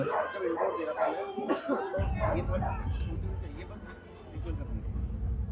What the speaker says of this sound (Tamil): இவ்வளோ பெரிய நாய்